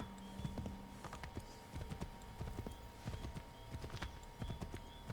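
Horse hoofbeats during a ride in Assassin's Creed III, a brisk, steady clip-clop close by with faint ambient game sound.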